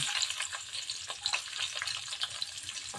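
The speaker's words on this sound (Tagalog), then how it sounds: "Ngayon lalagay na natin yung sibuyas." Onions fry steadily in a pan for Ilocano-style igado, a continuous close sizzle with crackling pops scattered throughout and no talking.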